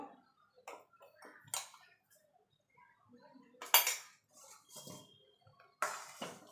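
Spoon stirring ground roasted spice into aam panna, the mango drink, producing light clinks and taps against the vessel in irregular bursts, quiet and close with pauses in between.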